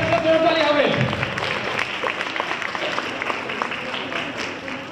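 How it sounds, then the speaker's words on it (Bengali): Audience applause at a university architecture department's anniversary cultural night, a steady dense clapping wash that holds for about five seconds, with voices mixed in underneath. "জোরে তালি হবে"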